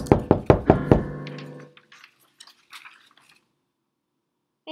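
Knocking on a door: five quick, sharp raps close by in a steady rhythm, then quiet with faint small bumps and no talking.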